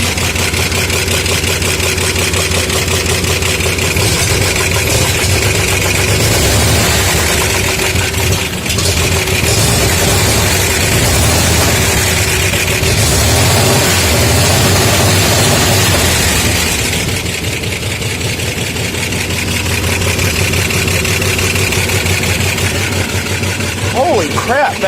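A Chevrolet Corvair engine running for the first time, loud and close with a steady rumbling idle and a dip in level partway through, with someone talking over it.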